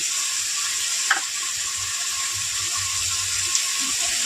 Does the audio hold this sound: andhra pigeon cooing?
no